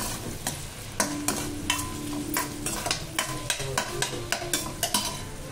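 Onion and green chilli frying in a pan, a steady close sizzle broken by regular spatula scrapes and taps against the pan roughly every half second.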